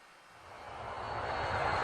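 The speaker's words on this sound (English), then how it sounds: "Thomas watched the Duke's airplane fly away." A cartoon airplane flies off as a broad engine roar that swells steadily louder over about two seconds. It sounds alone, with no voices.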